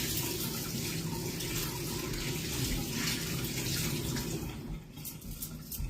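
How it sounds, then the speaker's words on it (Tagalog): A tap runs in a steady, fairly faint stream as hands are washed, the water shifting slightly in tone near the end with no voices over it. "Hugas akong kamay."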